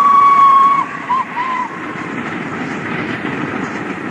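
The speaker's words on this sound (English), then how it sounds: "That sounds like an engine" A railway engine runs along the tracks, a steady loud rumble with a brief high whistle-like tone at the start, continuous and close.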